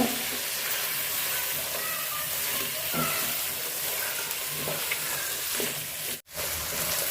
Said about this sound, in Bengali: এখন আলুগুলা দিয়ে একদম সুন্দর করে বাজা বাজা কষা করে নিব